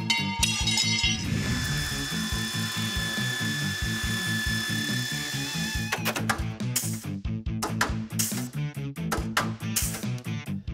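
A 1.5-inch steel angle is cut to fit a custom snowcat truck bed, with a rapid, rhythmic mechanical chatter of a metal-cutting tool that runs with a high whine and then breaks into sharp bursts and clanks.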